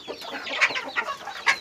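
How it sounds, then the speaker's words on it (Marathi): A hen clucks in an egg-laying box in a small poultry setup, giving a series of short close clucks and chirpy calls at an uneven rhythm with quiet gaps between them. "एक कोंबडी इथं मी मांडलेली आहे"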